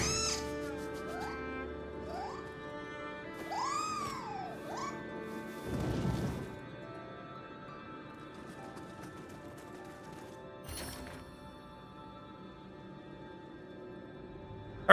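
A cat in the Nioh 3 video game gives several rising, wavering meows while being petted. They sit over steady game music, and two sharp crashing hits break in partway through.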